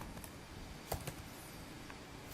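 Keys tapped on a computer keyboard while entering a program function, a few sparse, faint clicks over a quiet room background with no speech.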